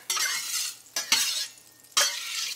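Pastured butter sizzles and fries in a pan while being stirred, with three bursts of scraping and crackling close by and no talking.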